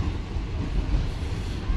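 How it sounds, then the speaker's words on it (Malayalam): The Parasuram Express passenger train rumbles steadily nearby, a continuous heavy rolling noise with faint clatter of wheels. "നമ്മുടെ പെയറിങ് ട്രെയിനും വരുന്നുണ്ട് കേട്ടോ."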